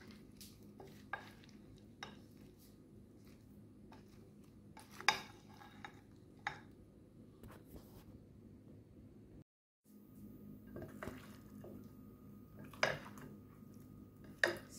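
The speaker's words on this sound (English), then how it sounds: "So you're gonna give that a good mix" Fruit salad being stirred with honey in a bowl: quiet, close scraping and occasional light clinks of a utensil against the bowl, with a brief break partway through.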